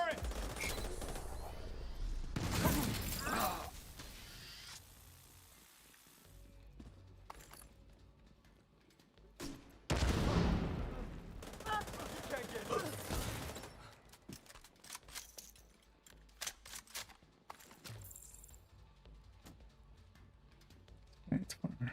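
A deployed turret fires in bursts during a co-op PvE shooter match, with sharp loud volleys near the start and middle and scattered quieter shots between, over a faint background bed.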